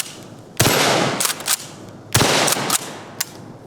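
A KSG-12 Defender bullpup shotgun fires two heavy booming shots about a second and a half apart, each followed by the clack of pumping and a few sharp rattles, loud and close with no talk.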